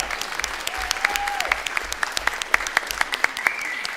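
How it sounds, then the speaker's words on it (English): An audience at a Huron Valley Schools board of education meeting gives a round of applause for Highland Elementary, a short, steady burst of many hands clapping together. "One more big round of applause for Highland Elementary."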